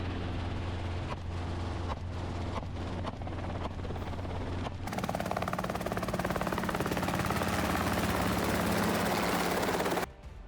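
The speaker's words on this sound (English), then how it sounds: "Helicopters flown by licensed gunners sweep across the vast countryside." A hunting helicopter's heavy, rapid rotor thumping drones loudly and continuously over open North American countryside, swelling as it passes close overhead before cutting off abruptly near the end.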